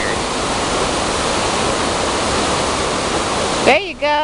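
Steady broadband rush of water pouring over rocks at a trail waterfall, loud and continuous, with a brief burst of voices breaking in near the end.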